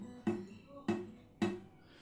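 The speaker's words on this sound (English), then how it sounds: "the first string will get muted and will sound like this." Three plucks on a guitar's first string, muted where the palm touches it, land evenly spaced as short, dull thuds that die away quickly, each fairly quiet and close.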